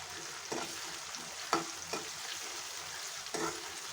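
Tomatoes sauté with browned onions in a pan over a low flame, a soft continuous sizzle broken by four clacks of a spoon stirring against the metal, quiet and close with no voices.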